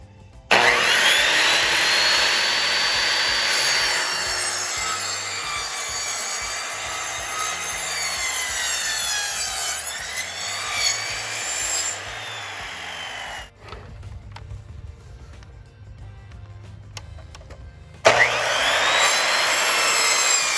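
A wooden board being cut for a miter joint on a base post repair, a power saw whining steadily through the wood, then a lower-pitched stretch before the cut resumes loudly.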